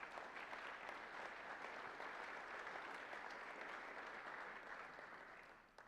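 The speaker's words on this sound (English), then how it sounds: "A round of applause for our student coordinators." An audience at a university civic engagement forum applauds student coordinators, a dense, steady wash of clapping that holds loud for several seconds before thinning slightly at the end.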